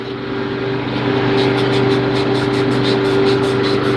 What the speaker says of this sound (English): This is a triple nickel Cummins, 555 Cummins, V8. This old semi-truck motor.